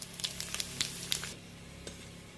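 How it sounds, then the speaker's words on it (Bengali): Whole garam masala spices dropped into hot mustard oil crackle and sizzle in a burst of sharp pops over the first second and a half, then settle to a faint simmer with one last crackle. "গোটা গরম মশলাগুলো ফোড়নের জন্য দিয়ে দিয়েছি"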